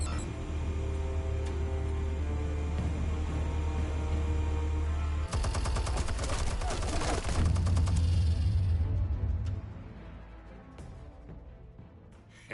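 Gunfire in a Telltale Batman video game scene, a dense burst of loud, rapid shots erupting midway over a steady low rumble and music-like tones, then thinning out and fading toward the end.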